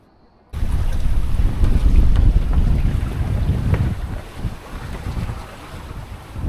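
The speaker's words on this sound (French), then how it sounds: "Le vent vient du nord toujours." A strong north wind buffets a sailboat that has just left the shelter of a mountain in the Greek Dodecanese, giving a loud, steady roar of wind and rushing water with no voices.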